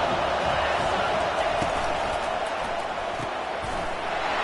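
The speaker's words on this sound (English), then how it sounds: "Decibels rising as the crowd gets behind this defense on third down." A stadium crowd in an American football video game roars steadily at third down, a dense continuous wash of cheering with faint thuds underneath.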